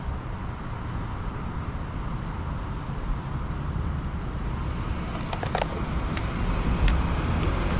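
Parallel traffic streams past on 4th Street as a steady, loud roar of road noise with no pauses, swelling slightly toward the end.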